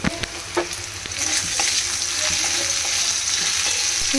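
Okra, fish and potatoes frying together in a pan, with a few sharp clatters of a spatula at first, then a close, steady sizzle building and holding.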